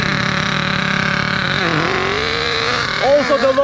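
A Duratrax RTX-27 Big Block nitro RC car from 2007 runs steadily with a loud, buzzing high-pitched whine, then its pitch dips and wavers before sputtering blips near the end, close by.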